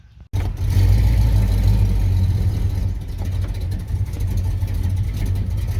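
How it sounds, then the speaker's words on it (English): An old 1976 Ford F150 pickup, abandoned for over 30 years, pulls off into tall weeds, its engine a loud steady rumble that starts abruptly and keeps running with low grinding throughout. "drive the truck off in there"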